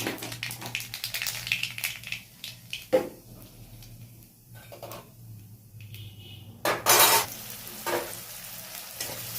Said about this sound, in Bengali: তেল গরম হয়ে গেছে, মাছগুলো আবার ভাজতে দিয়ে দিই।